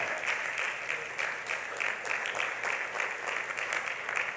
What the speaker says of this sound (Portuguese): Uma salva de palmas para Jesus em honra.